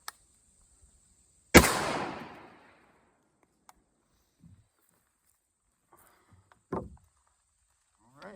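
A single sharp, loud rifle shot from a Remington 742 chambered in .30-06 cracks and rings out with a long decaying echo, followed by quiet with faint scattered movement and a few brief voices.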